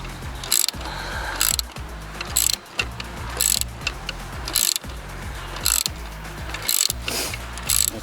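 Ratchet working a stuck bolt loose on a Ford during a thermostat job, a steady series of close, loud clicking strokes repeating at a regular rhythm.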